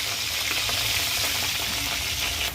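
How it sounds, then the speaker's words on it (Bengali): Drumstick (moringa) pieces fry in hot oil for a shukto with potato, bori, green banana and eggplant, giving a steady, close, crackling sizzle that stays loud and even throughout, with no voices. "ওই তেলে সজনেগুলো ভেজে নেব"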